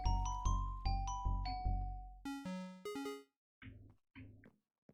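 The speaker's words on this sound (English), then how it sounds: "I want a jingle every time we have a diamond sent into the vault." Minecraft-style chime jingle for a diamond dropping into a vault: a series of bright bell-like tones in a stepped melody, loud and clear, fading into a few softer low notes at the end, no voices.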